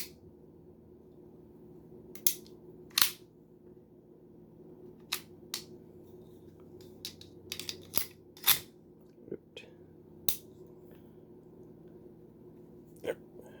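Sharp mechanical clicks and snaps from handling a Ruger MK I .22 pistol as its magazine is pulled out, a dozen scattered metallic transients spread irregularly over a quiet low hum, close and crisp.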